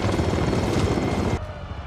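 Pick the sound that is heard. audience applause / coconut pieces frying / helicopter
helicopter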